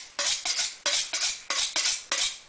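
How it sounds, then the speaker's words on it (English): Chef's knife honed on a sharpening steel, tip to midpoint at a steady angle: seven or eight crisp metallic scraping strokes in a quick, even rhythm, close and loud. "get the knife at the tip of the steel, and come down to about the halfway point"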